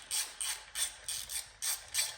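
A ratchet clicks in steady repeated strokes, about eight bursts, as a tap chases the threads of a bolt hole in the end of a small block 350 crankshaft for a 1968 Chevrolet K20 Suburban. The sound is close and crisp, with no talk.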